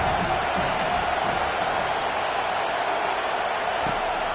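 A loud, constant roar from a football stadium crowd rises against the offense on third and long; it is a dense wash of noise with scattered shouts, and a commentator talks over it.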